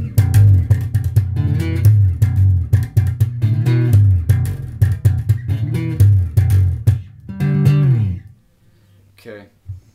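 Guitar playing the tapping section of a song without a distortion pedal: a quick, rhythmic run of plucked, bass-heavy notes that stops abruptly near the end, leaving a brief faint trailing tone.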